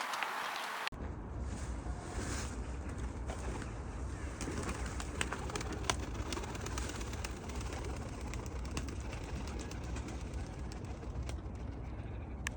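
Pigeons coo and shuffle close by in a noisy, enclosed space, with steady background rumble and occasional sharp clicks from wings or feet.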